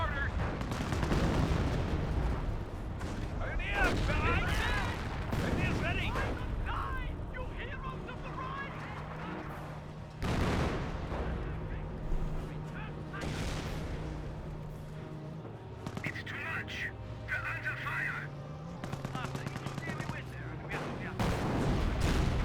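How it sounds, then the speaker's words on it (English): Artillery from 25-pounder guns fires repeatedly in a Company of Heroes 1 battle, with heavy booms and bursts recurring through steady background combat noise and occasional gunfire crackle; a voice can be heard at times. "25-pounder hitting back there."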